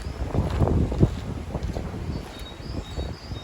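Gusty wind buffets the microphone in a steady low rumble near open water, with brief louder gusts and no talking.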